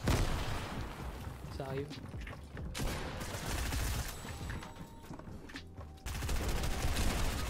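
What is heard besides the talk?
gunfire in Fortnite video game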